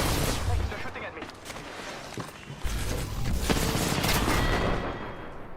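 Gunfire in a first-person online shooter game, rapid bursts and scattered shots with booming impacts, dense and continuous, mixed with background game noise and occasional voice chatter.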